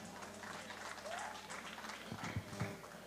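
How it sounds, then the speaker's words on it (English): Applause from the crowd at a local livestock show after a class winner is announced, a faint, distant patter of clapping under the hall's ambient murmur, with a couple of louder thumps near the end. "Let's give her a nice round of applause as well."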